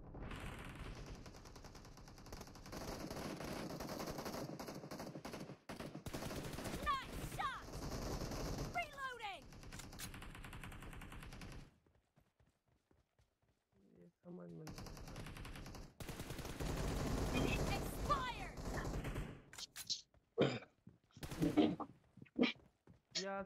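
Rapid automatic gunfire and bursts of shots from a multiplayer shooting game room match, loud and dense for about twelve seconds, a brief near-silent gap, then more volleys and scattered single shots, with voices talking over parts of it.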